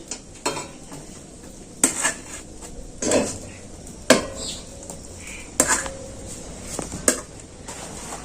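Pan of hot potato and semolina dough taken off a stove in a home kitchen, with several sharp metallic clanks and scrapes of utensil against pan, spaced irregularly over a faint low background hum.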